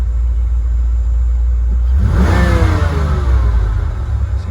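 A 1988–1993 Ford Mustang engine with a mass airflow computer idles with a low steady rumble, then revs up sharply and the pitch climbs before settling back toward a loud, close idle.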